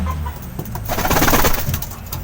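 Blue bar pigeons coo in soft, repeated throaty calls, close by and moderately loud, with a brief flurry of busier calling in the middle and no talking.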